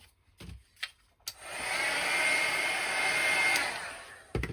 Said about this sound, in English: giving it a quick blast on your heat gun or with your heat gun